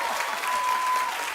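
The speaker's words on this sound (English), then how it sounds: "keep the claps going" A studio audience at a television talk show applauds in a dense, steady wash of clapping throughout, loud and continuous.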